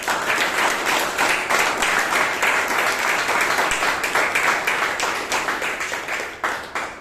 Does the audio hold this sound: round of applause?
yes